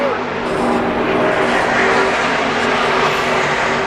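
NASCAR Truck and Cup Series race cars run practice at a track, making a steady, dense engine roar that holds at an even loudness from a distance the whole time.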